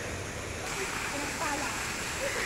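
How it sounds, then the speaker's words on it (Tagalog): Waterfall at Ma Dai Stream in Hong Kong, running full after overnight rain, gives a steady, close rushing roar of falling water that holds even throughout. "Umulan po kasi kagabi, so marami pong tubig yung falls natin."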